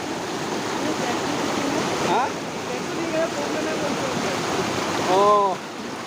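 Champawati waterfall pours with a constant close rushing roar of falling water, while a voice speaks intermittently over it and faint whistling tones rise briefly near the end.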